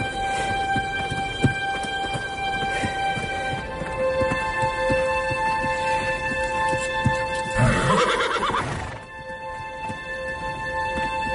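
A horse whinnies loudly near the middle, a long shaky neigh rising over steady background noise and faint rattling.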